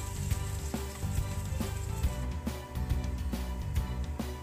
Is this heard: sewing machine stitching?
no